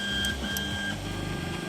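A heated 3D printer lays down its first layer, its stepper motors whining in steady shifting tones with soft mechanical hum, close and moderately quiet throughout.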